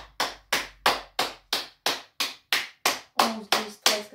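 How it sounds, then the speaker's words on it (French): Hands clap in a slow, even rhythm, about a dozen sharp, close claps spaced roughly a third of a second apart, with no other sound. "on va applaudir"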